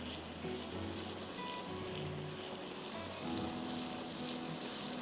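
Masala frying in a pan for ginger chicken, a steady close hiss and crackle of sizzling oil that carries on evenly throughout without a break.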